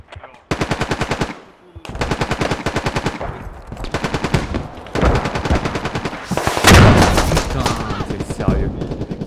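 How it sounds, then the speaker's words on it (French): Machine gun suppressive fire in the Squad video game, long rapid bursts of loud automatic shots repeated several times, close and dense, with a louder overlapping volley near the end. "Ok, je vais faire une suppression."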